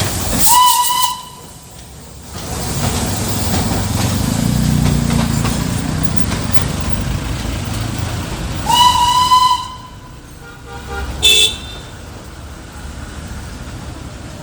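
A Darjeeling toy train steam locomotive near Ghum station: two sharp, bright whistle blasts and a brief third toot frame a long, loud rush of hissing steam between them.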